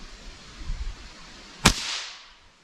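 A single sharp crack from a .22 LR rifle firing a Remington Yellow Jacket round, loud and abrupt, followed by a short decaying echo in an otherwise quiet setting.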